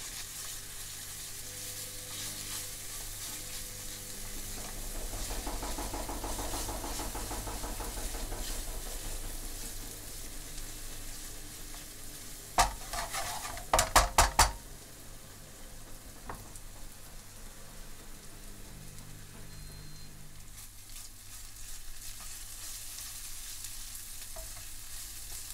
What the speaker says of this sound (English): Turn up the heat and stir in the garlic and ginger paste and the chillies